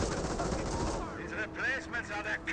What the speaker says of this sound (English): getting some hits there on the MG42